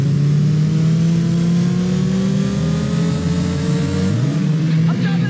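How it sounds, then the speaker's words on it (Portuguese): Car engine in the Burnout 3: Takedown racing game revving hard and accelerating from the start, a loud steady roar with rising pitch and a gear change near the end, with possible tyre screech underneath. "é só acelerar e sair cantando pneu"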